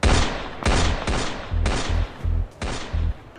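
Gunfire cracks out in a rapid series of about six sharp, loud shots at roughly half-second intervals, each with a short ringing tail, close by and with almost no talk.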